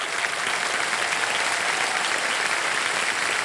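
Dense, steady studio audience applause on the Indian quiz show Kaun Banega Crorepati, many hands clapping loudly and evenly without pause.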